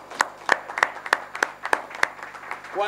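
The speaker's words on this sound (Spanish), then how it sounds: "quiero pedir un aplauso para ellos" Light scattered clapping from a small convention audience, about eight distinct sharp claps at an even pace, close and fairly quiet, with no talk over it.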